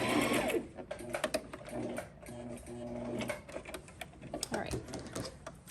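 A sewing machine back stitches fabric for a head wrap in short whirring bursts with brief pauses between them, while someone talks nearby.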